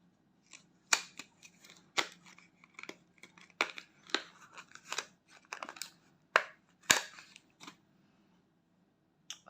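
Scissors snip open the plastic packaging of a cross-stitch kit. A series of sharp, irregular cuts and crinkles sound close up against quiet, with no talking.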